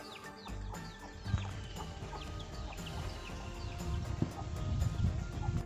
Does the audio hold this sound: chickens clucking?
yes